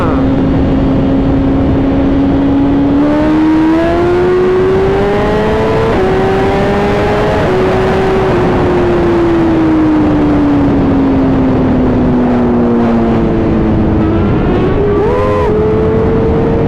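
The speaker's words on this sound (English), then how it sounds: "Man, look at Will doing wheelies, yeah." Motorcycle engine revving on a ride while a rider pulls wheelies, a loud close engine whine that climbs and falls in pitch over wind and road roar, with a brief higher rev near the end.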